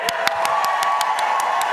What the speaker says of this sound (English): by round of applause, who loved Jeremy's?